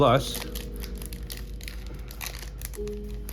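A Gundam TCG ST07 or ST08 deck pack is ripped open, with a loud burst of tearing and crinkling plastic at the start that fades into lighter rustling beneath a speaking voice.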